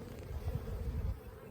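Honey bees crawl over hive frames during a spring inspection, a dense low buzzing hum filling the space close by with no voices.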